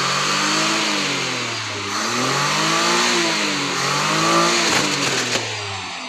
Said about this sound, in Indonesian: Lalu ketika dicoba digas sampai pol, fan beltnya putus.